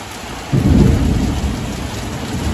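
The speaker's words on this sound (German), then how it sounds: "Gießt es alles ein bisschen." Heavy rain pours down during a thunderstorm, a loud low rumble of thunder rolling in after the first half-second and fading slowly under the steady downpour.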